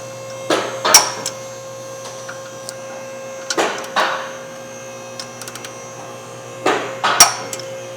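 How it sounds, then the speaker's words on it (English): A torque wrench tightening the rear caliper bracket bolts on a 2015 Ford F150 to 111, three separate bursts of ratcheting clicks and metallic knocks spaced a few seconds apart, close and fairly loud, with a faint steady hum behind. "we're going to use our torque wrench and torque them down to 111"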